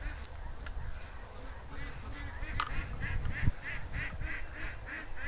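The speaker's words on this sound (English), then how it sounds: "All the ducks have figured out they're coming in the long way to have a snack" Ducks gathering at a pen for a snack, quacking and honking in a rhythmic run of calls under outdoor background noise and nearby talk.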